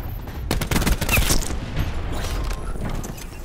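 Annihilator fire and other battle gunfire in Call of Duty Black Ops 4 multiplayer, a dense, loud run of overlapping shots and booms that keeps up through the whole stretch.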